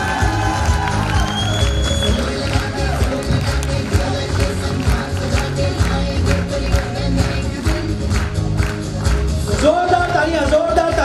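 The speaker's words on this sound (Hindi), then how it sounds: "एक बार जोरदार तालियां।" Crowd at an achievers recognition event in Indore clapping and cheering loudly and continuously, with whoops and a tonal music-like layer running throughout.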